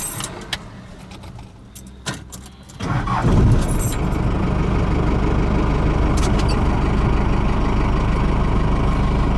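A truck with an M5OD-R2 manual transmission is shifted into gear: a few clunks and jingling rattles, then the engine rises into a loud, steady, close rumble that holds to the end.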